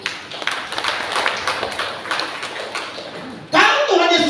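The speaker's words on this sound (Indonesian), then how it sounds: "Beri tepuk tangan dulu buat dia." A church congregation claps for a man, a scattered patter of applause that carries on for a few seconds before a voice takes over.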